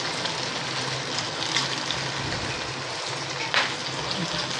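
Chicken pieces frying in hot oil over medium heat for crispy chicken, a dense, steady sizzle and crackle up close with a few sharper pops, no voices.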